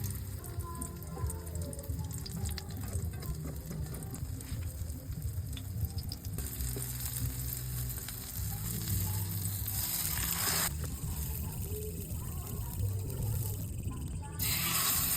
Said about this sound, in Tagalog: Pagkatapos kong painitin yung mantika, sinalang ko na rin tong talong.